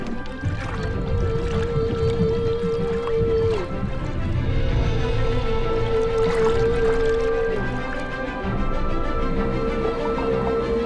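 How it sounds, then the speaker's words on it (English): Humpback whale calling underwater while hunting with a bubble net: a long, eerie sustained tone that holds steady, breaks off, then returns, over a dense wash of fizzing bubbles and murky water noise. "Another whale calls to synchronize the group."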